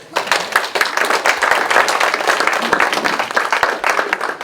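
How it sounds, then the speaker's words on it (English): An audience at an adult social center's mentalist show gives a full, dense round of applause, loud and close, sustained throughout without talk. "Give a round of applause."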